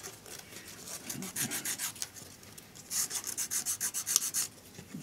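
A model building for a Tudor tea shop is gently rubbed down to remove marks, giving soft, close rasping strokes in quick rhythmic runs, faint and alone with no voices.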